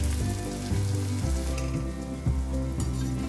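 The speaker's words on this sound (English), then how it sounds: "just flip it over and fry the other side" Steady, loud sizzling of cauliflower frying in hot oil for Gobi 65, a continuous crackling hiss with a few soft stirring clunks.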